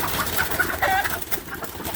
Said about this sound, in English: We have several birds, as you can see.